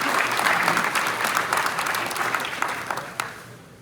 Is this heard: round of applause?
yes